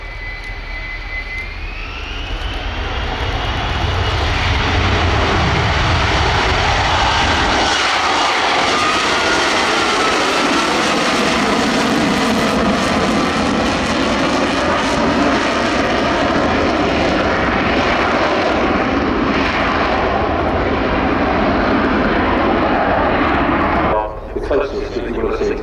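A jet aircraft at an air display spools its engine up to 34% thrust before brake release. The loud, continuous roar builds with a rising whine and holds close and powerful throughout.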